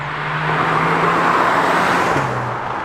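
Cupra Leon front-wheel-drive hot hatch driving, a steady engine and road hum with a sustained low drone that dips slightly in pitch near the end.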